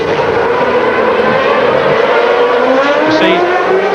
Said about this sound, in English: Senna demonstrates that Honda have caught up with Renault as terms of engine power.